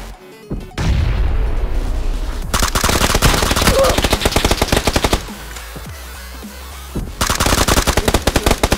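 Gunfire in PUBG: Battlegrounds, with long loud bursts of automatic rifle fire and sharp single shots that come in waves, nearly continuous, with brief pauses between volleys.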